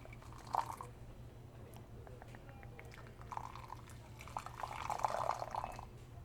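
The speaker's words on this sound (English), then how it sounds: "A little hot water in there." Hot water poured softly into a cup for a matcha latte in a quiet cafe setting, a few faint liquid trickles and splashes in close, gentle bursts.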